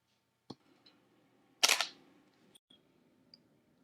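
A camera shutter fires once at a slow 1/40 s, set with an aperture of f/11 for an outdoor shot of moving water; a sharp mechanical clack with a brief rattle, close and alone in a quiet setting, with a faint earlier click.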